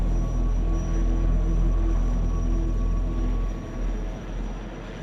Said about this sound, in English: fighter aircraft crossed paths with transport aircraft around the clock